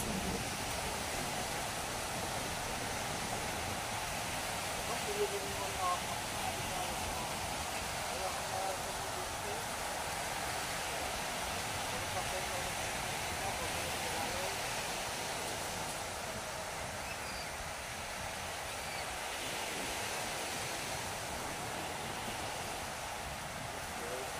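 A strong river current rushes in a steady, dense roar that holds evenly throughout, like heavy water pouring past close by.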